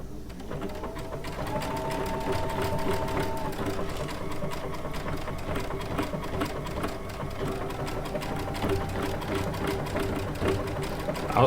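A Baby Lock Altair sewing machine with a circular sewing attachment stitches in a steady, continuous rapid whir with a fine rhythmic needle pulse, close and unbroken from start to finish.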